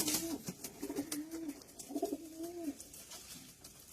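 A large-bodied pigeon with purple feet coos softly and repeatedly at close range, low rolling calls in a steady rhythm with quiet background.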